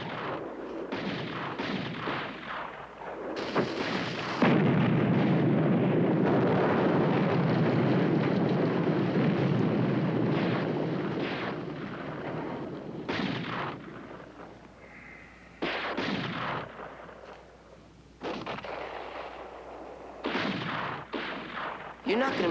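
Film battle scene of artillery firing on a mountain: a long, roaring barrage of heavy blasts rumbles loudly for several seconds, followed by a series of separate booming shots spaced apart, each with a deep echoing tail.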